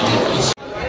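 Dense crowd noise fills an Indian railway station platform before the Gondwana Express arrives, a steady mass of overlapping chatter and bustle that cuts out sharply for an instant midway, then resumes.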